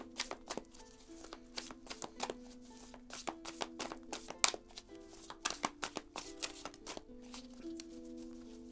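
Tarot cards are shuffled for a reading in a quick run of crisp riffling flicks and soft slaps. The sounds repeat steadily and fairly faintly, close by, with a low tonal hum underneath.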